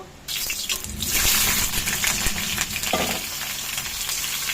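Bitter gourd pieces frying in hot mustard oil, a dense, steady sizzle that swells loudly after a brief quiet start and carries on close and continuous, with occasional clinks and no talking.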